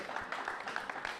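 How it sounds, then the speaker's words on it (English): Applause for the Shepherdsville Fire Department at a live charity telethon, soft, quick clapping from a crowd heard faintly and at a distance. "Big round of applause for the Shepherdsville Fire Department."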